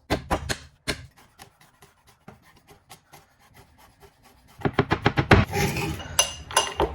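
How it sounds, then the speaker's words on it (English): A knife mincing garlic cloves on a board: sparse sharp taps at first, then a fast dense run of chopping strikes with rubbing scrapes near the end, close and alone. "Now finally mince some cloves of garlic."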